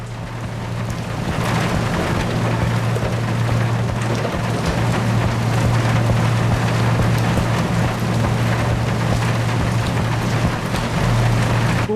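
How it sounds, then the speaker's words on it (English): Steady rain pours on a ship in the sea simulation game Seafarer the Ship Sim, a dense continuous hiss over a low engine hum, constant and close throughout. "I believe it's raining."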